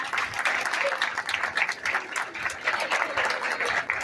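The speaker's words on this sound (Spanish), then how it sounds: "y un aplauso para los alumnos de cuarto de economía" At a school event for International Cooperative Day, an audience claps for fourth-year economics students, a lively, close, uneven patter of many hands that carries on steadily.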